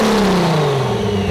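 A Toyota Supra sports car engine, converted to four doors, revs hard with no exhaust fitted, a loud raw roar whose pitch falls steadily as the revs drop, with no talk over it.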